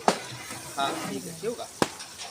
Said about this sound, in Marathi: कांदा फ्राय चालले आहे